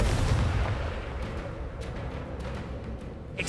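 Fiery blasting spell bursts in the Hogwarts Legacy video game, a loud booming impact with a thick low rumble up front that decays into a lingering crackling tail, with faint sharp pops scattered after.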